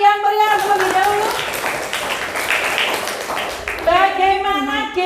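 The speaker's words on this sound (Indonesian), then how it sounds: "silakan tepuk tangan yang meriah terlebih dahulu" Children in a classroom clap and applaud for a few seconds, a dense wash of hand claps sitting under an adult's voice at the start and end.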